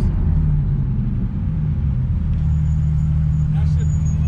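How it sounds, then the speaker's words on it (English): A car running on nitrous accelerates hard, its engine giving a steady, loud, low rumble throughout, close to the microphone, with no clear speech over it. "the car feels so different on the nitrous."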